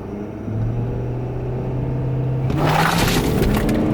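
A 6.7 Powerstroke diesel pickup tuned for extra power makes a hard launch in four-wheel drive: a steady low engine drone and whine building, then a loud rough surge of roaring rumble and noise as it takes off, close up.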